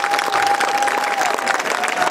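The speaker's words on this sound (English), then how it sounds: "I'd like to ask you to give a big round of applause, please, for the artist who designed the Stockton Flyer, Mr. Rob Higgs" Crowd at the outdoor unveiling ceremony of the Stockton Flyer sculpture giving its artist a big round of applause, loud, continuous clapping from many hands with light cheering mixed in and a steady tone running through.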